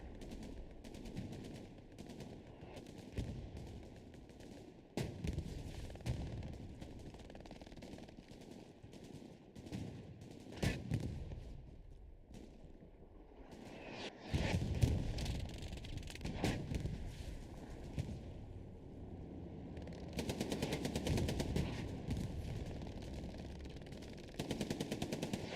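Rapid machine gun bursts in a competitive online shooter match, sharp rattling volleys repeating in clusters across the whole stretch amid other scattered gunfire, fairly distant and steady with no talk over it.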